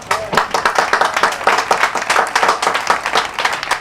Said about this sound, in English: Those are the folks that deserve the round of applause.